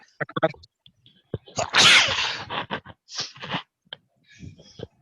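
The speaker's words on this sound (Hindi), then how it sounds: "छींकने में भी डर लगता है" One sharp, loud sneeze from a man bursts out in the middle, set between short fragments of nearby speech in a quiet indoor room.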